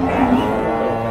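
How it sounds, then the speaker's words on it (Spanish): A cow at a livestock market in Nueva Guadalupe, San Miguel, El Salvador, lows in a single low sustained moo, close by and continuous for a second amid steady market background. "Una belleza de vaca."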